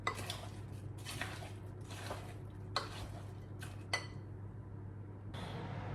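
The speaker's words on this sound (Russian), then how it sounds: "Еще раз перемешаю теперь все яблочки, чтобы все было однородно перемешано." Sliced apples stirred together in a bowl for a dairy-free charlotte cake, giving a few soft scraping and clinking strokes of a utensil against the dish, quiet and close, with a low steady hum behind and no talk.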